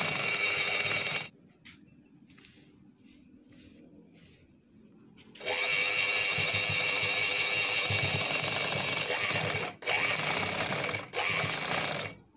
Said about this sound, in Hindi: और इसी की कन्नी पे सिलाई लगाएं।